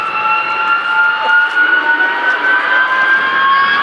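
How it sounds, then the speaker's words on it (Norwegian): Vampire jet engines spool up at an airshow, a steady loud whine with rising tonal lines held across the whole stretch, no voices over it. "Så nå hører jeg de spoler opp her borte"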